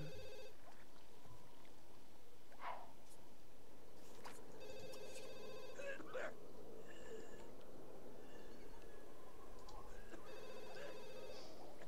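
In The Sims 2, a telephone rings in repeated short bursts, fairly quiet, over a soft background hum of the game.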